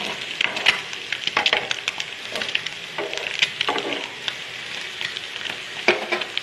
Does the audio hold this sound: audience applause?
no